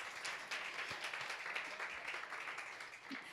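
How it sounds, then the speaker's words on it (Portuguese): Churchgoers at a worship service clap together, a soft, distant patter of many hands that stays steady and fairly faint throughout. "Você pode glorificar a Deus aplaudindo ao Senhor."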